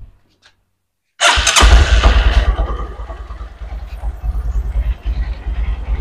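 A Honda Verza motorcycle in a repair shop, silent at first, then the engine cranks, catches loudly and settles into a steady, close, throbbing idle.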